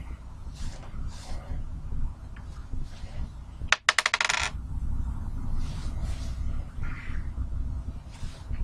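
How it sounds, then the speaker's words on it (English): A die re-rolled during a football box pool draw, heard as a brief burst of quick, close clattering bounces in the middle of a quiet room. "we'll re-roll that one"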